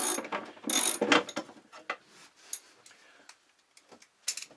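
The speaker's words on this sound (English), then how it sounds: "loosen the nut. From the inside." A wrench loosens a nut on a boat's chain plate, working from the inside. Close, quick metallic ratcheting clicks come in bursts, then thin out into scattered faint ticks and taps.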